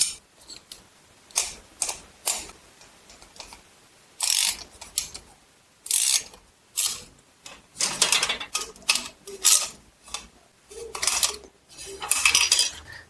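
Metal clanks and ratcheting clicks in short bursts as bolts are tightened on a FLEXIMOUNTS GR38-2T 3x8 two-tier overhead garage storage rack, loud and close with brief pauses between.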